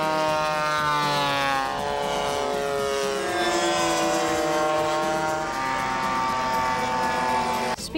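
A remote control model biplane flies with a steady, droning engine whine whose pitch slowly shifts as it passes, loud and continuous throughout with no talking.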